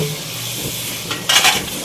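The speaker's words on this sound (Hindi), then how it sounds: "यहाँ चिकन को बहुत अच्छी तरह से फ्राई करूँगी" Chicken sizzles and fries in a pan with garlic and ginger for a korma, with a loud close hiss and a quick stirring scrape near the end.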